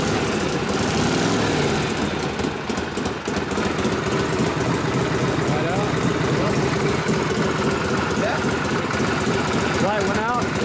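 1967 Harley-Davidson Shovelhead 74ci motorcycle engine running steadily with a loud, continuous lumpy drone, voices talking over it throughout.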